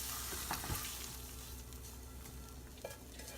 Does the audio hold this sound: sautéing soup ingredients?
yes